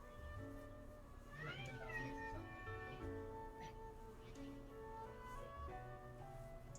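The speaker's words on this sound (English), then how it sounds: "Do I hear a cat?" A cat meows several times, drawn-out and faint, against a low steady background.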